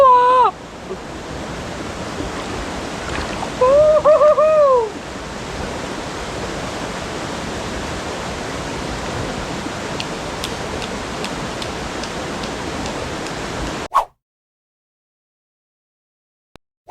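A cold mountain river in the Pyrenees rushes in a steady broadband roar, close and continuous, with a brief whistled or sung note early on, then cuts to near silence at the end.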